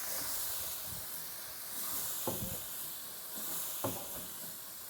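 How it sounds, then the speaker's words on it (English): A steam cleaner hisses steadily against a greasy grill, a close, constant high spray with a few brief low knocks and clatters, and no talk. "There's gonna be a lot of steam because you are using the power of steam"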